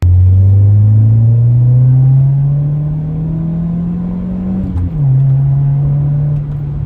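A Honda CR-V engine with a repaired exhaust idles close by with a steady low rumble, its pitch creeping up slightly before a brief dip and settling again.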